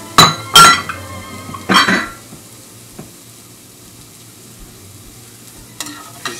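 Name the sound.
garlic frying in a pan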